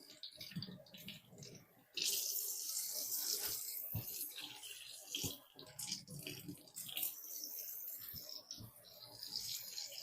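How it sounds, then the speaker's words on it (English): Water rinses milk out of the hose of a Simple Pulse goat milker, a steady close rush of running water that starts after a couple of seconds of quieter splashing and continues to the end. "I'm just going to rinse that a couple of times till it runs clear."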